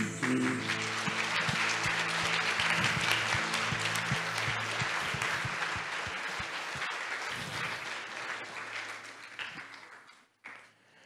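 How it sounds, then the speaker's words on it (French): A crowd at a Marian evening vigil at the Laus sanctuary claps steadily and loudly for several seconds, the applause gradually thinning out and fading before stopping. "On applaudit Marie."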